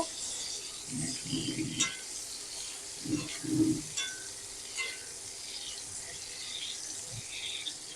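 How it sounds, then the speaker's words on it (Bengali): Pointed gourd (potol) frying in oil until reddened gives a soft, steady sizzle with light clinks, close but fairly quiet, with a couple of brief low murmured voices partway through. "পটলটাও আমি একটু লাল লাল করে ভেজে নেব"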